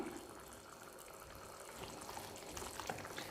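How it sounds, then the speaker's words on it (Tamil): Egg curry gravy bubbling steadily in a pot, a soft continuous simmer with faint popping throughout, growing slightly louder toward the end, with no voices. "குழம்பு நல்லா கொதிச்சு பச்சை வாசனைலாம் போயிடுச்சு"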